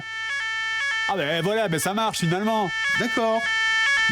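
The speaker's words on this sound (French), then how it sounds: "C'est un détecteur de fumée." A smoke detector sounds in steady repeated beeping tones throughout, loud and close, with people speaking French over much of it.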